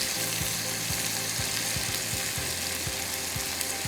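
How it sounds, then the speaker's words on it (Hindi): Onions fry in olive oil in a pan with a dense, constant sizzle and hiss, steady and loud throughout, with faint low taps from stirring underneath. "ये प्याज यहाँ हम तल रहे हैं"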